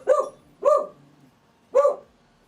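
Three sharp, loud dog barks nearby, the first two in quick succession, then a short gap before the third.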